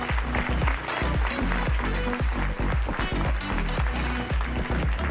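An audience applauds at a health-care conference opening, steady clapping with some rhythmic thumping and a beat underneath, continuous and fairly loud throughout.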